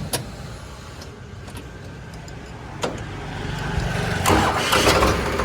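A Farmtrac 60 EPI tractor, 2021 model, starts up: a few sharp clicks and cranking, then the engine catches and builds to a louder, rougher rumble toward the end, close by with no talk.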